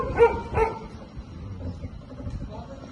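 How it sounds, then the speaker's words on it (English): A dog barks loudly on a street at night, two sharp barks early on followed by fainter, scattered yips and whimpers under a low background rumble. "a dog began barking loudly at this figure"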